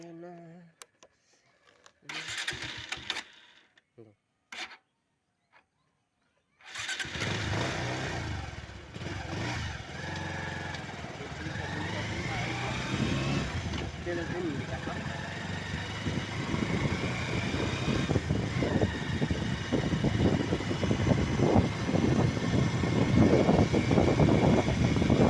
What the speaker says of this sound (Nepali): ब्लैक स्टार विशाल यहाँ बाइक कुदाएर